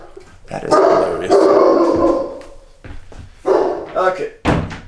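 A pet dog barks and growls at her own reflection in a glass pane indoors, loud close barks in uneven bursts with a person talking in between.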